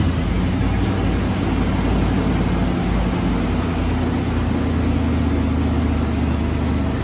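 A car engine revs and idles steadily after its throttle position sensor was replaced, a continuous low rumble heard close up without talk.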